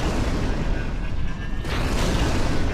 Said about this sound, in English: That is a nice explosion effect.